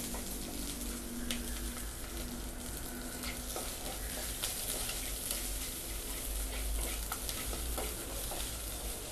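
Ponnanganni keerai kootu sautéing in a pan gives a steady close sizzle and frying hiss, with scraping stir strokes and small crackles running throughout.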